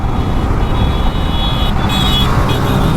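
Vehicles overtaking on a busy, congested road, heard as steady loud traffic and engine rumble with a brief rising whine near the end, close and continuous.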